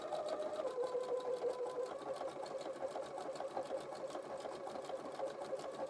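A sewing machine stitching appliqué fabric, a fast steady whirring chatter of the needle running continuously and close, with no talking.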